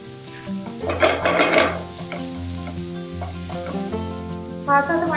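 Chopped onion and garlic sauté in a pan for a tawa pizza sauce, with bursts of sizzling and stirring scrapes rising over a steady tonal background hum, then settling into a softer frying hiss.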